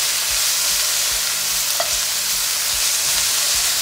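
Chicken pieces for a ginger chicken stir fry fry in a pan, giving a steady, bright sizzle throughout, broken by a few soft scrapes and taps from turning the pieces.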